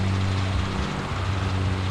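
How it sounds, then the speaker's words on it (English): Diesel tractor engine in a farming roleplay game set in 1980s Westby, Wisconsin, cutting grass: a loud, steady low drone with a constant hum running unbroken throughout, no voices. "Gosh, this tractor uses up diesel fast."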